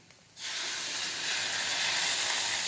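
Plain water hits a hot pan of wild boar curry and bursts into a loud, steady sizzle and hiss that continues without pause.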